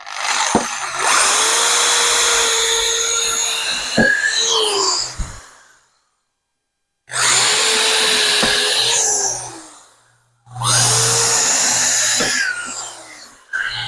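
A power drill whirs loudly in three long bursts while fitting shed roof panels, the first about five seconds, separated by short pauses of silence.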